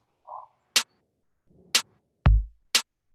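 A sparse programmed drum beat made during a beat-making session, with a kick drum on the first beat and snare hits on two and four, plus a short soft tone before the first hit, played alone at moderate level.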